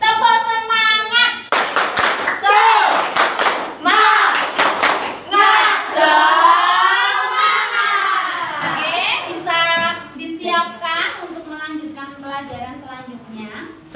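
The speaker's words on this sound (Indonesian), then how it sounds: "Tepuk semangat yang pasti. Tepuk semangat." A classroom of children performing the rhythmic 'tepuk semangat' spirit clap, bursts of sharp patterned hand claps mixed with loud chanted voices in unison, close and energetic throughout.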